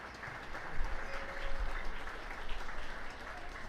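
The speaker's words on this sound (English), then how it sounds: "You guys can reward them with a big round of applause." Audience applause at a 4-H swine show fills the whole stretch as steady, moderately loud clapping from a crowd, with a little voice sound mixed in.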